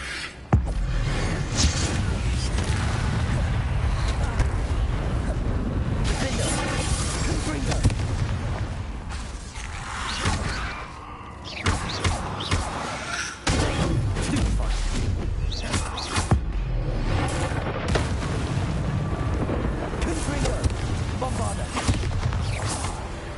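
Bombarda blasting spells go off in Hogwarts Legacy as a run of loud, heavy booms and crashes over about twenty seconds, with a voice talking over the action.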